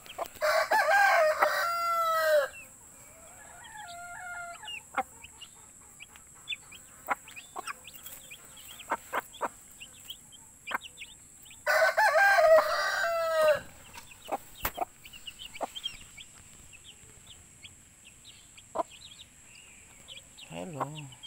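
Rhode Island chickens and their chicks on a farm give two loud bursts of crowing and clucking. Scattered softer clucks and peeps fill the quieter gaps between them.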